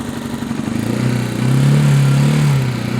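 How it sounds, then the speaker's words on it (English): A Janus 250 motorcycle idles just after its first start, a steady mid-pitched thrum close by that swells briefly as the throttle is nudged, then settles. "Now that the bike is running, you may need to nurse the throttle a little bit to keep the bike idling."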